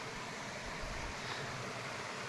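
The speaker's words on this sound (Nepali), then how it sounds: "खोला फेरि यस्तो छ खोला" A mountain stream beside the footpath up to the Mahakal temple in Bhutan rushes with a steady, soft, even wash of flowing water, faint and unbroken, with no talking.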